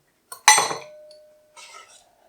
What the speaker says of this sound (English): take our egg, crack it in